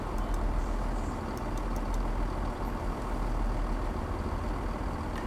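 Steady low diesel drone from a two-car Class 170 Turbostar unit in Train Sim World 5, constant and fairly loud throughout with a few faint clicks above it and no talking.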